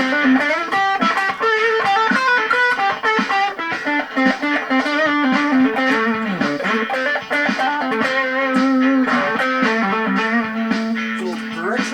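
Electric guitar played through a US Dream distortion pedal with the bridge humbucker, giving a loud, continuous run of overdriven chords and riffs with sustained notes and no pauses.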